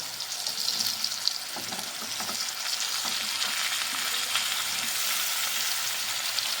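Bottle gourd added to a pan of sautéed potatoes and flat beans, frying with a steady, dense sizzle and occasional stirring scrapes, close and continuous throughout.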